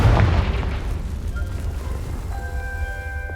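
A Confringo spell explodes in Hogwarts Legacy on PS5: a loud booming blast at the start with a deep rumbling tail that fades under lingering game ambience and faint tonal effects, no talk.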